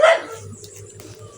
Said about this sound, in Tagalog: Tumutulong na yung aso ko. Yung askal.